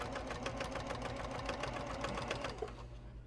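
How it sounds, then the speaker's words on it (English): A sewing machine stitching small cotton accent strips inside a bus, a fast steady mechanical chatter of needle strokes that runs continuously, then cuts off near the end; no talking. "So I'm sewing these little cotton accent strips."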